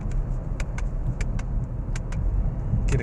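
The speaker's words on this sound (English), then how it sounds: "get a couple of blips here for you to hear the exhaust again as I downshift" A 2012 Porsche Panamera on a test drive gives exhaust blips while downshifting, heard from inside as a steady engine drone with several short sharp pops scattered through it.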